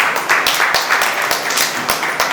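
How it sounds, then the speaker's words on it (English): Audience at a teaching reality-show grand finale claps in a steady, rhythmic beat, sharp regular hand claps filling the whole short stretch. "Please clap."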